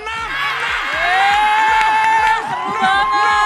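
An audience at an awards show claps in rhythm and shouts "six" together, a loud, close burst of cheering and voices, with a brief pause before a second wave.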